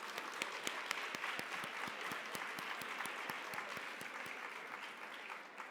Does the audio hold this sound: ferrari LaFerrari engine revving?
no